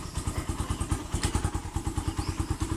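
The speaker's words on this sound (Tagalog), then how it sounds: "sobrang ganda pa talaga ng tunog ng kanyang makina kahit may backfire siya" A Rusi Raider 150 carbureted motorcycle engine idles with a loud, uneven chugging pulse, punctuated by sharp popping backfires from a holed exhaust elbow; close and steady, no voices.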